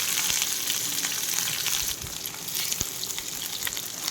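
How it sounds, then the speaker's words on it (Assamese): Chopped onions sizzle and fry steadily in a hot pan with bay leaves for an Assamese-style duck curry, a dense continuous crackle with occasional small pops, close and fairly loud, with no talking. "এয়া মই পিঁয়াজখিনি ফ্ৰাই কৰি ল'ম।"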